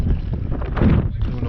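Wind gusts across open ice while people are out ice fishing, a loud rumbling buffet hitting the microphone that continues throughout.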